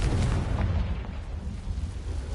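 A Confringo blasting spell from the Hogwarts Legacy video game goes off as a heavy, rumbling explosion. The deep boom fills the whole short moment at close range and is fairly loud.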